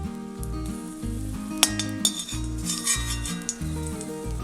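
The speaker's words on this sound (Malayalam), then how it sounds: "2 ടേബിൾ സ്പൂൺ മുന്തിരി ചേർക്കാം. ഇത് നെയ്യിൽ മൂപ്പിച്ചെടുക്കണം." Two tablespoons of raisins fry in ghee in a pan, a continuous sizzle under occasional metal clinks and scrapes of a stirring spoon, set against a steady low musical backing.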